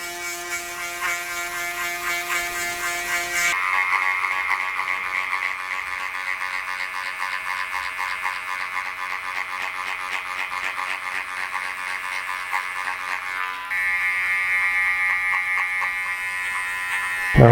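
An electric shaver buzzing steadily close up during a top knot undercut fade, taking hair down to the skin, its pitch shifting as it presses in and lifts away, with no talking.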